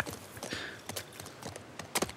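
A horse's hooves clip-clop at an even walking rhythm in The Last of Us Part II, soft and somewhat distant, with no talk over them.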